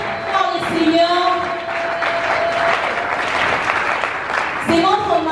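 A church congregation applauds and cheers in a steady wash of clapping that lasts throughout, while a voice calls out over it at the start and again at the end.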